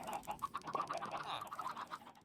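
Chickens in the Minecraft video game cluck in short repeated bursts at close range, a steady run of small game-animal calls with no talking over them.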